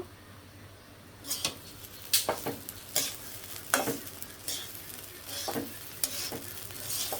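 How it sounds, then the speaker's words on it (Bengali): Rice for a vegetarian pulao frying in a pan, a steady low sizzle broken every second or so by sharp scraping stirs, close and clear with no voices. "পোলার চালটা আমি ভেজে নিতেছি, ভালো করে ভেজে নিব"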